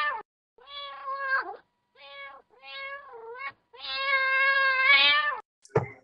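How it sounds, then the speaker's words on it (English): A house cat meows repeatedly as a sound effect, several drawn-out tonal cries separated by short pauses, the last one long and insistent, close and loud with no talking. "So I had to get the sound effects out of my cat."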